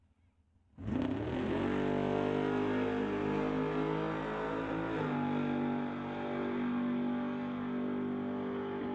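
A drag racing car launches hard and roars down the track. A sudden loud engine blast rises into a sustained, rough high-revving drone that holds through to the end, heard from fairly close.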